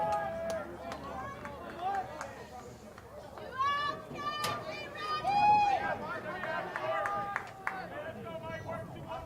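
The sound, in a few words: lively crowd at a college baseball game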